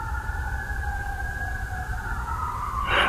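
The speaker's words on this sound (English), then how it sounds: "Them sirens be right over in the area." Fire station sirens wailing a short distance off in a neighborhood, a steady two-tone whine held under a low background rumble, faint and continuous.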